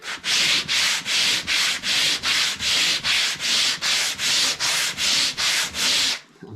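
Steady back-and-forth sanding strokes with a sanding block on the wooden body of a Stratocaster-style guitar being built, about fifteen even rasping passes in a regular rhythm, close and fairly loud, no talking.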